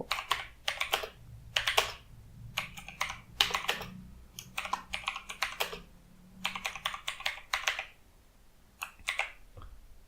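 Typing on a computer keyboard while writing HTML text, close and clear, in quick bursts of clicking keystrokes separated by short pauses, with no speech.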